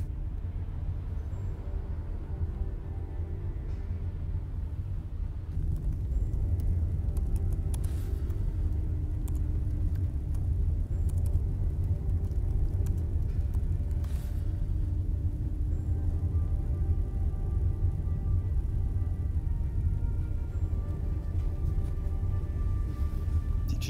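Steady low rumble of a car driving, heard as a continuous engine and road drone from inside, with occasional faint clicks over the hum and no talking.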